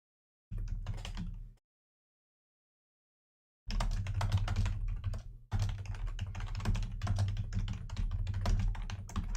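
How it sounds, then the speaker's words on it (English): Bursts of rapid computer keyboard typing, close and fairly loud, with a brief pause after the first short burst, then steady continuous clatter of keys. "I've typed in the comments there in reply to that."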